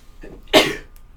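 A single short, sharp sneeze bursts out close to the microphone, brief and loud against a quiet background.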